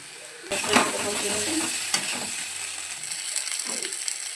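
Mustard water and green-red chili paste poured into frying poppy seed paste for a pointed gourd dish, a sudden burst of loud sizzling that settles into a steady hiss with scraping stirs.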